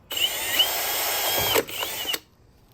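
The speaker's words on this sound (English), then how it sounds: "Next, line up your drill bit and have at it." A power drill bores a bolt hole for a bracket on a Ford F150 oil catch can install, one steady high whine lasting about two seconds, briefly dipping then stopping, close and loud.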